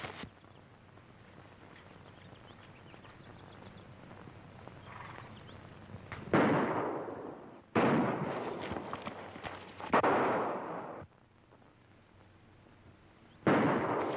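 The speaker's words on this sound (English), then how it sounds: "He's shooting at us." Gunshots in a colorized black-and-white western film, heard as several loud, sharp cracks a few seconds apart, each with a ringing tail that dies away over quiet outdoor background.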